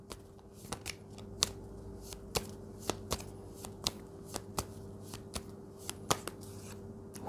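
Tarot cards shuffled by hand, a quick run of sharp riffling snaps at an uneven rhythm, close and fairly quiet over a faint steady hum, with no talk.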